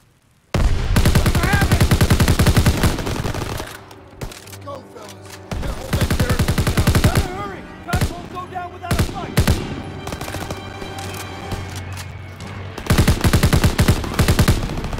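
Machine-gun bursts and rifle fire from Call of Duty WW2 rattle loudly through most of the stretch, rapid and dense, with a brief lull near the middle and heavy volleys returning at the end.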